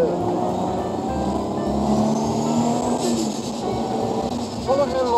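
Nissan Skyline R33 GT-R driving with a window open, a steady broad roar of engine, tyres and wind rushing in close, with a voice speaking over it.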